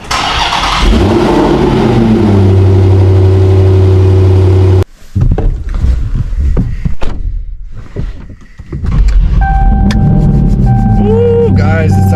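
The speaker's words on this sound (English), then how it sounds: "guys, we're about to fire the Demon up," A 1025-horsepower Dodge Demon 170 cranks and fires up with a loud, close burst, then settles into a rough idle before a few sharp revs rise out of it.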